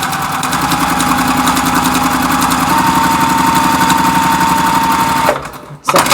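A sewing machine runs steadily at speed, stitching a quarter inch off center on an Album Star quilt block, its rapid needle rhythm humming continuously before stopping abruptly near the end.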